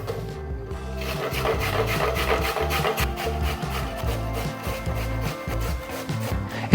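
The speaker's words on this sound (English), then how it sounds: "I'm just doing it on the large side of a box grater, and I'm doing it over a bowl" Carrots rasp against the large holes of a box grater over a bowl, a steady rhythmic scraping of quick back-and-forth strokes that runs continuously at close range with no talking.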